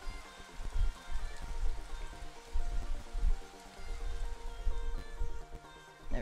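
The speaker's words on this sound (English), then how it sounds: "I'm gonna turn that rain noise down." Steady rain ambience from the video game Against the Storm, pattering continuously at moderate volume with low rumbling undertones and no voices.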